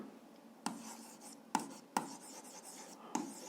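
Pen strokes scratch and tap on notebook paper while an algebra solution is written out, several sharp, quiet taps spaced irregularly over soft scratching in a quiet room.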